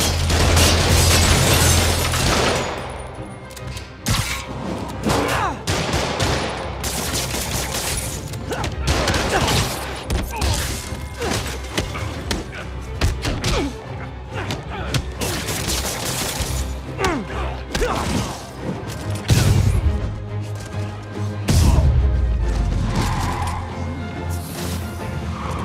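Gunfire and crashing impacts from Marvel's Spider-Man fill a busy game fight, with dense bursts of shots and smashes running almost continuously, loud and close, mixed with grunts and game voices.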